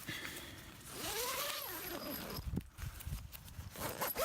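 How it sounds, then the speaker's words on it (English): An unzipping zipper on a cheap Ozark Trail hiking tent gives short, faint rasping pulls near the end. Quiet murmuring and rustling come before and around it. "On all these cheap tents, you got to make sure these zippers unzip right and they don't get caught."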